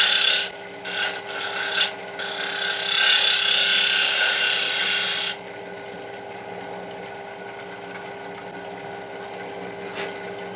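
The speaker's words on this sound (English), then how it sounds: "I'm using the shear scraping to get the shape" Shear scraping a wooden egg turning on a wood lathe gives a loud, hissing rasp for several seconds, with short breaks early on, then stops and leaves only the steady hum of the running lathe.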